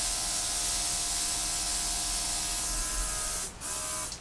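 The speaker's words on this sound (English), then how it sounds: "I want to blow out a little bit of this center area that I'm not sure what's going on here." Steady blowing hiss of air directed onto wet acrylic pour paint, constant and close, with a brief dip near the end.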